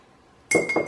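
A spoon clinks twice against a tea cup while sugar is added, two bright ringing taps in quick succession after a quiet start, close and clear.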